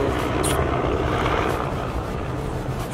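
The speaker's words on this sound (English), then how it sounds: "Helicopter! Wow." A helicopter passes overhead outdoors near the La Brea Tar Pits, its rotor and engine making a loud, steady broadband roar that fills the whole stretch, with a few brief higher sounds on top.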